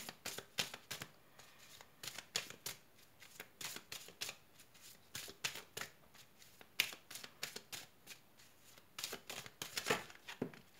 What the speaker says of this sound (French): Alors j'ai trop de cartes qui sont tombées